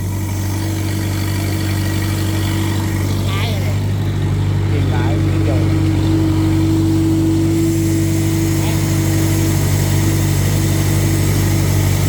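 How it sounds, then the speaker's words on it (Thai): A pesticide-spraying vehicle with a long boom arm runs its engine steadily under light load, giving a constant close, droning hum with a low tonal whine throughout. Faint voices can be heard over it. "เครื่องยนต์ก็เดินไปเรื่อยๆครับ"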